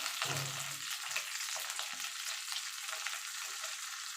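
Water hits a hot pan of frying ginger and spices, releasing a loud, steady hiss and sizzle up close that runs without a break, with brief stirring noises and no talking.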